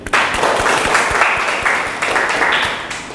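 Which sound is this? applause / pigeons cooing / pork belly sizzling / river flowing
applause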